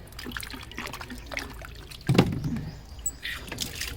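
Water from a faucet trickling and splashing over mangoes being washed, a close uneven dribble that swells midway, with no talking.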